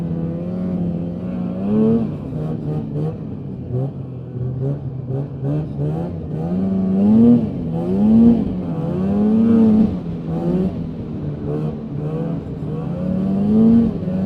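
A Polaris Indy 550 snowmobile with two carburetors runs close by. Its buzzy two-stroke engine note rises and falls through several revs over a steady running drone, with no other sound.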